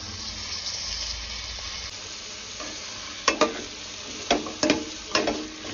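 Biryani masala sizzles and fries in a pan as tomatoes go in, with a steady hiss broken by several sharp stirring scrapes and clatters near the end.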